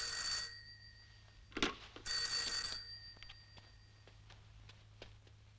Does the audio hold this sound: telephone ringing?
yes